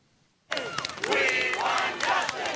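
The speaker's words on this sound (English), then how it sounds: "A crowd of supporters chanting, "We want justice," greeted the Miami family" A crowd of supporters chants and shouts at an outdoor gathering in Washington, a loud, dense mass of voices starting abruptly after a moment of quiet and holding steady.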